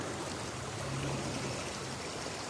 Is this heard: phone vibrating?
no